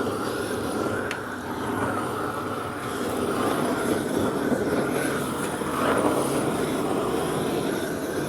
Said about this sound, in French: Là, on y passe un coup à la flamme, du coup.